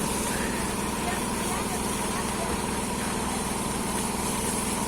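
A 2020 P. Charoen Phatthana combine harvester engine runs at a steady high rev, a loud continuous drone with a dense rattling texture that barely changes throughout.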